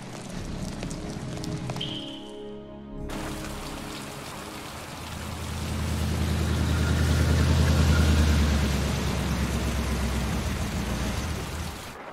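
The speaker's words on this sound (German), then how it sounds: "Der starke Regen." In the video game Heavy Rain, a brief musical tone is followed by heavy rain pouring, a dense steady hiss that swells louder midway, with some faint rhythmic clopping beneath.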